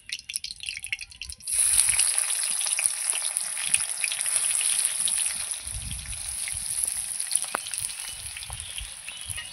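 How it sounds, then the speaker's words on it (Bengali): Onions and garam masala going into hot oil in a pan, a loud sizzle that bursts in after a quiet start and keeps crackling steadily, with occasional stirring knocks. "এবার গরম মশলা দেওয়ার পরপরই আমি পেঁয়াজগুলো দিয়ে দেবো"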